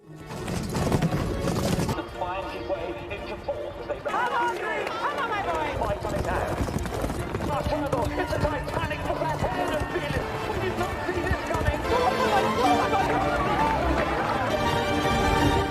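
Racehorses galloping in a race with jumps, a steady run of hoofbeats under continuous music and voices, loud and close throughout.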